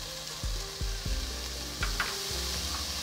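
Chopped onion sautéing in olive oil in a pan over medium heat, a steady close sizzle broken by several sharp thumps and scrapes of stirring, with no talking.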